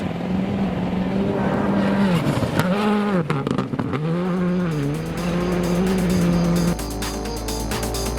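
A rally car races hard on a stage, its engine revving loudly and rising and falling through gear changes, with tires squealing and gravel-like crackles, recorded close from a camera on the rear spoiler.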